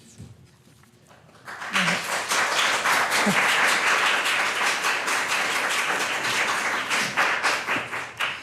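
After a quiet start, an audience at a city council meeting breaks into sustained applause, a dense wash of many hands clapping that carries on to the end, with a few voices underneath.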